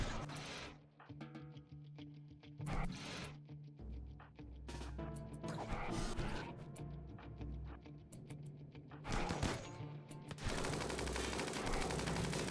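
Bursts of rapid automatic gunfire and single shots crackle in a RimWorld colony battle, firing in uneven clusters with short gaps between volleys, moderately loud and unaccompanied by talk.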